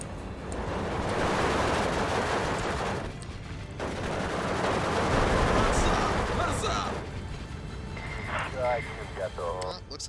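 Dense, sustained machine gun fire and battle noise from the Steel Division II war game, a loud continuous crackling barrage that fades near the end as voices speak.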